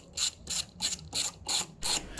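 A ratchet wrench backing out long 8mm fuel tank bolts on a Honda CRF 150R dirt bike, six evenly spaced bursts of sharp clicking close up, with short quiet gaps between strokes and no talking.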